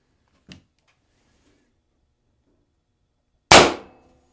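A single suppressed shot from a Pistelle x68 pistol fitted with a suppressor kit, one sharp, close, muffled crack with a quick decay after a small earlier click, no voices.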